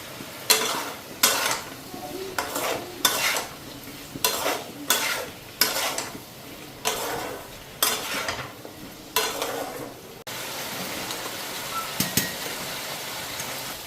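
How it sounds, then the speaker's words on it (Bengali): Spices lightly frying in a pan, with a steady sizzle broken by a dozen rhythmic scraping stirs of a metal spatula, close and fairly loud, then a smoother hiss with a few clinks near the end. "মশলাটাও দিব, আগে একটু হালকা ভেজে নিই"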